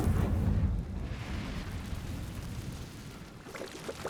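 A Confringo spell explosion in Hogwarts Legacy opens with a heavy rumbling blast, then a crackling, rain-like debris wash that fades, with a few sharper pops near the end.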